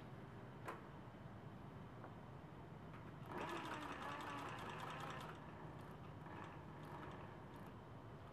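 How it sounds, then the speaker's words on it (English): A Cobra Class 26 sewing machine stitches textiles, its fast mechanical stitching rising over a low steady hum for a few seconds and then easing back, faint and alone with no talking. "I'm going to load the textiles in and start my sewing operation"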